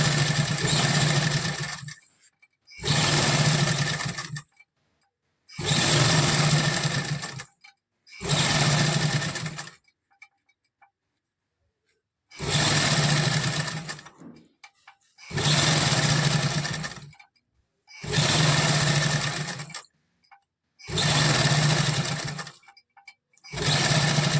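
An electric sewing machine stitches piping onto salwar cuffs in a steady run of about eight short, whirring bursts, each a couple of seconds long with brief silent gaps between, close and clear.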